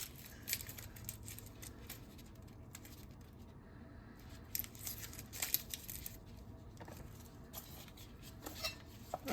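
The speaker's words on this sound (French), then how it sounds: "Donc là, j'épluche mon ail." Garlic cloves being peeled by hand in a kitchen, with a steady run of dry crackling, tearing and small clicks against a surface, close and fairly quiet, broken by a short pause midway.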